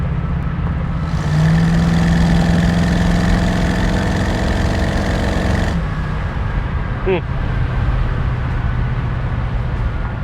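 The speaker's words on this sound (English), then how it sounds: "you're constantly going to be putting your foot down so you can listen to that 289" A 1968 Ford Mustang with a 289 V8 running on the road, a loud, steady low engine drone that swells briefly and then settles, heard close throughout.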